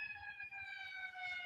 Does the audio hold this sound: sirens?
yes